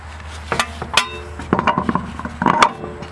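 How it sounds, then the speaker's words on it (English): A wheel goes back onto the hub of a 2004-2013 Mazda 3 during front brake work, heard as a few close metallic clinks and knocks, short and irregular, over a low background hum. "now we're going to put our tire back on."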